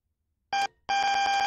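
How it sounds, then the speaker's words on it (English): The AWS self-test alarm sounds in a GWR train cab in the Train Sim World game: a short electronic tone, a brief gap, then a sustained loud ringing buzz with a fast pulsing texture, close and alone. "That alarm is the AWS self-test system."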